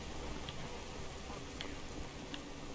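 Steady rain from a weather mod in Skyrim, a constant hiss of drops falling evenly with faint, sparse ticks on top, quiet and continuous with no talk.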